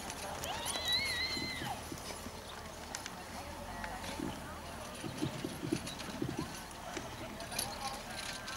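Horses trot during a driving marathon event in Cornwerd in 2014, their hooves clip-clopping faintly and irregularly at a distance while people talk over the scene.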